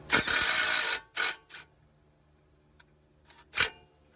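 A 22 mm jam nut on the outer tie rod of a 2003 Mitsubishi Outlander is worked loose with a wrench. A long ratcheting burst is followed by short clicking strokes, quiet pauses and a final ratchet burst.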